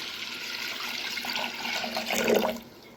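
Water poured into a pressure cooker holding toor dal, a steady splashing pour that swells near the end before tapering off, close and alone.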